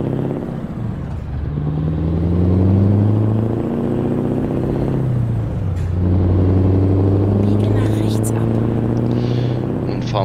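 A heavy truck in Euro Truck Simulator 2 drives with a loud, steady engine drone that rises and falls through gear changes, mostly alone with no talk over it.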